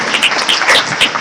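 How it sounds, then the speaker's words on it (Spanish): An audience at an education conference applauds, a loud close burst of clapping with uneven swells that carries through the whole moment. "Un aplauso"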